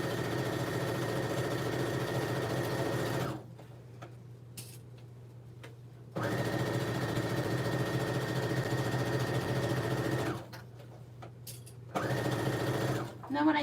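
Sewing machine stitching a tote bag seam, running in long steady whirring bursts with rapid needle ticking, pausing between runs as a voice talks over the quiet gaps.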